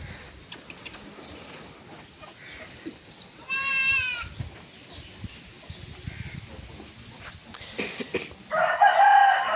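Gulabi breed goats, mature breeding stock, on a goat farm in Karachi, bleat amid a busy farmyard. A rooster crows clearly partway through, and other animal calls and general barn noise continue throughout.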